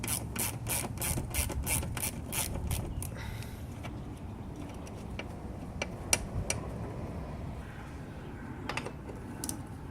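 A ratchet turning an 8mm socket during maintenance and repair work clicks rapidly and evenly up close for a few seconds, then gives way to sparse, scattered ticks against a quiet background.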